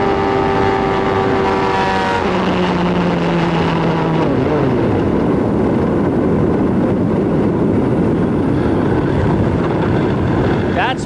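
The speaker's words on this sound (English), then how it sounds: "That's what it's like to hear an engine blow, begin to disintegrate." A 1994 CART IndyCar engine blowing at Michigan during a race: a loud, steady high-revving engine tone that abruptly drops in pitch, breaking into a rough, disintegrating roar over constant track noise.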